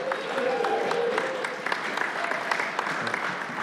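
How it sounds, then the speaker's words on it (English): A steady round of applause from a live audience at a beer history show in a brewery taproom, dense and continuous throughout, with faint voices mixed in. "Let's give Matt a round of applause."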